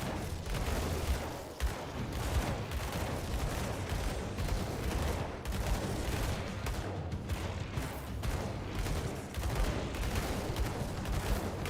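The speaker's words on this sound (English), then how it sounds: "I'm just shooting him to death." Dense, continuous gunfire and explosive bursts from the action RPG Grim Dawn, rapid overlapping shots filling the whole stretch at steady loudness with no talk.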